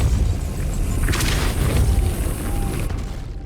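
A Confringo fire spell blasts in Hogwarts Legacy on Switch, a booming explosion with crackling debris that swells, then decays into a long rumbling tail, loud and without voices.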